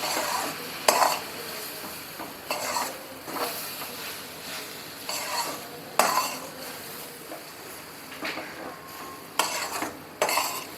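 A spoon stirs and mixes vatli dal with sugar and lemon juice in a pan, giving repeated scraping and clinking strokes in an irregular rhythm, close and fairly quiet with no talking.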